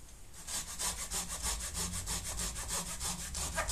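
A budget pruning saw rips through a roughly 2-inch branch with fast, rhythmic back-and-forth strokes, around fifteen even pulls, close and loud with no speech.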